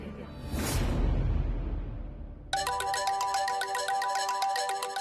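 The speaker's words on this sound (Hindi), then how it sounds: "फोन आ रहा है" A quick whoosh gives way to a bright, repeating electronic phone ringtone that keeps chiming steadily to the end.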